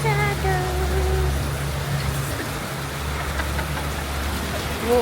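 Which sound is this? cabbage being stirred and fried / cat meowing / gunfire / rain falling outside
rain falling outside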